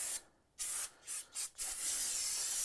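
Aerosol can spraying onto BMW brake parts behind a front wheel, a close, steady hiss broken into several bursts: one long spray, a short gap, two brief puffs, then a longer continuous spray.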